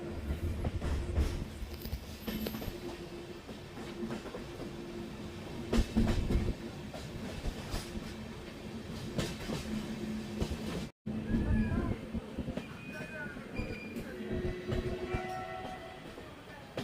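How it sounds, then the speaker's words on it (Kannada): A train on the Bengaluru to Mangaluru railway rolls steadily toward Subrahmanya Road station, a continuous rumble and rattle of wagons with a brief cut partway, moderately loud and close, with faint squeals later. "ಫ್ರೆಂಡ್ಸ್ ನಮ್ಮ ಟ್ರೈನ್ ಈಗ ಎಂಟ್ರಿ ಆಗ್ತಿದೆ ಸುಬ್ರಹ್ಮಣ್ಯ ರೋಡ್ ರೈಲ್ವೆ ಸ್ಟೇಷನ್ಗೆ."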